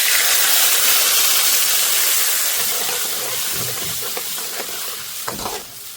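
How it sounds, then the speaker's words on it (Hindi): Vegetables being tempered with curry leaves and chili sizzle loudly in hot oil, a dense, steady hiss with faint stirring scrapes that eases slightly toward the end. "सबसे पहले छोंक रहे हैं हम सब्जी।"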